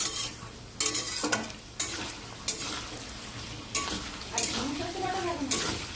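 Kochu and potato curry being stirred in a pan, a spatula scraping in repeated strokes over a soft sizzle, close and fairly quiet with clear rhythmic bursts.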